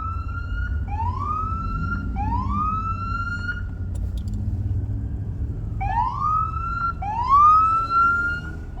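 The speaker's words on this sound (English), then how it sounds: "Like every 2 seconds you hear a cop." A police siren wails in rising sweeps, several repeated whoops then a pause before more, moderately loud over low traffic rumble, on the streets of Watts, Los Angeles.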